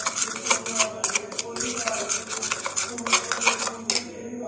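Ingredients and oil being mixed in a bowl for a noodle dish, with quick repeated clinks and scrapes of a utensil against the bowl in an uneven rhythm. No one speaks.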